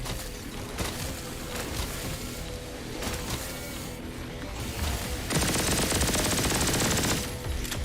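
Uzi submachine guns chatter in rapid automatic bursts in a first-person shooter, Modern Warfare 3, the fire loud and near, stopping and restarting, with one long sustained burst toward the end and no talking.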